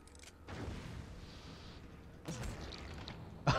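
Torpedoes launching in the Bath Boats naval video game, heard as a few muffled, booming bursts, one building at the start, another mid-clip and a sharper hit at the end, fairly quiet overall.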